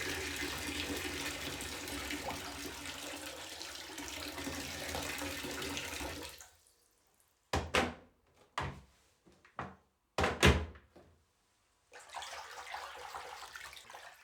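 Water poured from a kettle into a large metal bowl in a kitchen: a steady splashing pour, then a series of short clanks and splashes, and the pour resumes briefly.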